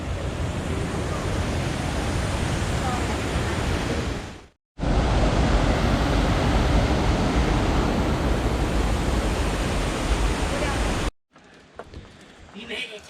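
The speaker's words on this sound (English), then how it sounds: "So this is where water came into the old mill." Water rushes steadily where it once flowed into an old mill at McConnells Mill State Park, a loud broadband roar that cuts out briefly, then returns before giving way to quieter ambience near the end.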